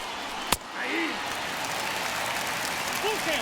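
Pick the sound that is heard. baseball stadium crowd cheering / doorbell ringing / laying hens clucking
baseball stadium crowd cheering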